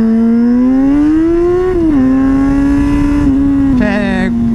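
Yamaha FZ6 S2 600cc four-cylinder motorcycle fitted with a Leovince exhaust and Power Commander 5, a loud, steady near engine drone that rises slightly, dips briefly, then shifts pitch again near the end.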